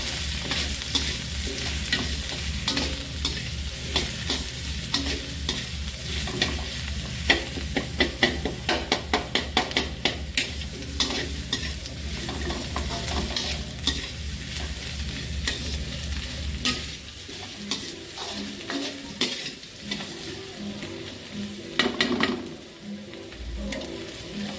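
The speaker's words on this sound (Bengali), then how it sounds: "এবার হালকা একটু নাড়াচাড়া করে নিই।" Potatoes and chopped ginger fry in a pan while a spatula stirs them, giving a continuous close sizzle broken by rapid, rhythmic scraping and tapping strokes. The sizzle softens toward the end, leaving scattered stirring taps.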